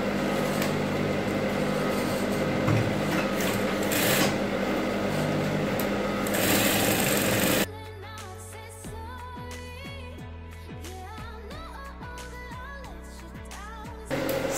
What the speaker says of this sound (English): Okay, so let's go ahead and start sewing. Sew by half an inch.